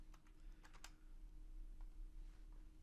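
Quiet keystrokes on a computer keyboard as a value is typed in: a short cluster of soft clicks near the start, then a few scattered taps over a low background hum.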